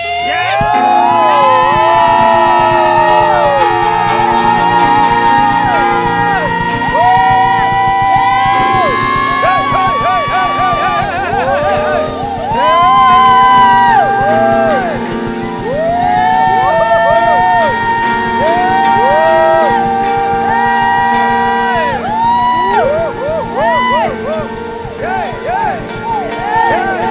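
A church congregation at a revival night screams and shouts together in a loud, sustained roar that holds for the whole stretch, rising and falling in waves with voices swelling over a dense crowd bed.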